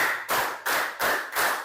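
Five rhythmic bursts of group hand clapping in a classroom clapping game, evenly spaced and fairly loud, with no talk over them.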